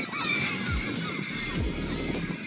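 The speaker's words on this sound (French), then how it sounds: "Nous sommes étonnés de voir une femme nourrir les goélands dans une ambiance survoltée." Gulls calling excitedly at a French fishing port on the Île d'Oléron as a woman feeds them, a dense, continuous chorus of harsh honking cries close by, with no speech.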